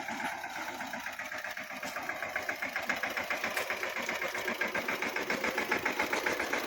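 Tractor engine idling in a village, a steady mid-pitched rhythmic chugging with regular pulses that grows slightly stronger toward the end, heard alone at moderate distance.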